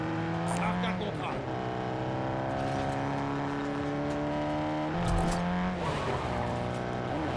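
A car driving in the video game Warzone, its engine holding a steady tone with pitch shifts as it changes speed, a brief screech around the middle, and game voice lines and effects playing over it.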